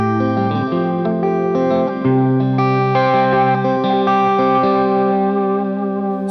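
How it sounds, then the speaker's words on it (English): Fingerpicked guitar runs through a KMA Audio Machines Cirrus reverb pedal set to sample-hold delays, giving sustained, dark, shimmering echoes and a continuous wash of layered notes without pauses. "I switched to this sample hold type of thing, and it just makes the delays way darker"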